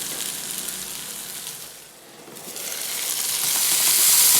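Brinjal (eggplant) frying in a pan sizzles loudly and steadily, a close, bright hiss that dips briefly and then rises again as the pieces cook.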